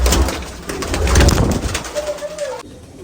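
Teddy, Chapda and Golden breed pigeons coo in a Rampur loft, a cluster of close, throaty, rolling calls overlapping across a few seconds with faint chirps near the end.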